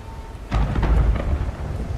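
Thunder rolling through a storm in the game Windrose, a sudden deep rumble with a soft crackle that swells in and lingers over faint background ambience.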